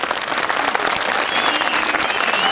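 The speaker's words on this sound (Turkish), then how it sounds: "Şuna koca bir alkışla." A crowd at an outdoor picnic festival in Erzurum bursts into a big round of loud, steady clapping that holds evenly for a couple of seconds.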